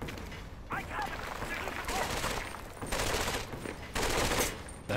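Gunfire in the World War II shooter Medal of Honor: Vanguard, played on Hard: a steady, dense wash of rattling automatic fire and booms that swells and dips, with a voice talking over it at moments.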